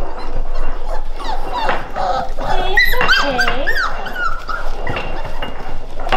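Labrador puppies whimper and yip in a run of high, wavering cries close by, while a person speaks soothingly over them.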